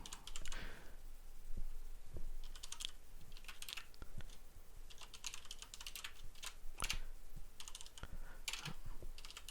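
Keystrokes on a computer keyboard while a keyword tag is typed into Lightroom, clicking in irregular bursts at close range with no talking over them.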